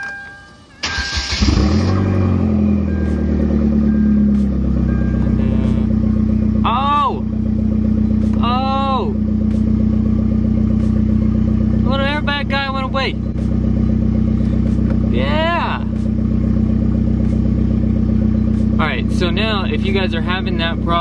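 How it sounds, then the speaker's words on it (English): A car engine cranks and catches, then settles into a steady loud idle that runs throughout, with brief higher squeaky sounds over it. "Alright, so I'm gonna go ahead and start the car for you right now."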